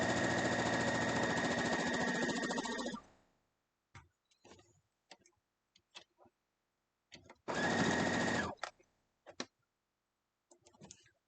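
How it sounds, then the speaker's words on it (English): Sewing machine stitching a spool quilt block, two loud whirring runs of about three seconds and one second, each followed by scattered clicks and brief handling sounds in between. "you just sew down through"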